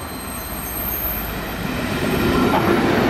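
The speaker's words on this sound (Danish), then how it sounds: "Her kommer IC-toget vist til København." An IC3 intercity train bound for Copenhagen rumbles into a station and grows steadily louder, wheels grinding and faintly squealing on the rails as it draws close.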